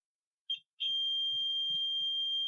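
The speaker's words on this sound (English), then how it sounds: "the multimeter is giving beep sound" Digital multimeter on a continuity check across two points of a cable, giving two short beeps followed by a sustained steady high-pitched tone, with faint low thumps underneath.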